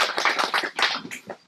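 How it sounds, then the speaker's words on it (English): Brief scattered clapping from a small audience at a woodturners club meeting, a quick burst of hand claps that tapers off within a second or two. "I know Barry was looking for a lot of applause for that, so I wanted to make sure we gave it to him."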